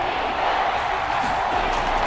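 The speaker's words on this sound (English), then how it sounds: "the crowd getting into it as we come up on a big third down" A stadium crowd cheers in a Madden 22 simulated NFL game between the Houston Texans and Cleveland Browns, a steady, dense roar of many voices building before a third down.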